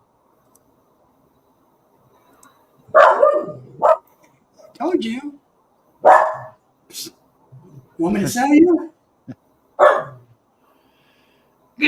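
A dog barks and yips in short repeated bursts, fairly close, mixed with people talking casually over it in a home setting.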